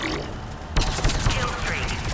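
Rifle fire in the Mass Effect Legendary Edition video game: a sharp burst erupts after a quiet start, followed by further loud shots and clattering action, close and dense.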